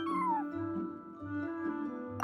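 A cat meows once with a falling, drawn-out cry near the start, followed by quieter low murmuring sounds and a steady background hum.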